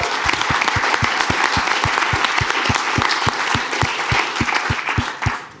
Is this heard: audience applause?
yes